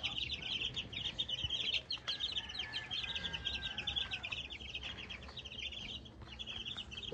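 A crowd of seven-day-old chicks chirps steadily in high, rapid peeps, many overlapping calls continuing nonstop at moderate distance with a low background hum.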